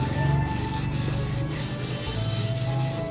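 A knife blade scrapes back and forth over fresh, new sandpaper while rust is cleaned off, producing a continuous gritty rubbing rasp at close range with regular short strokes and no talking.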